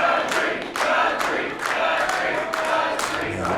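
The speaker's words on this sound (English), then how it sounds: "crowd is feeling this" Wrestling crowd at an NWA USA mixed tag match, a steady roar of cheering and shouting with repeated surges, heard alone without a voice over it.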